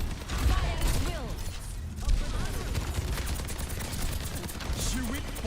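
Rapid gunfire bursts and mechanical weapon clatter in the video game Overwatch 2, loud and dense from start to finish, with game voice lines mixed in beneath the shooting.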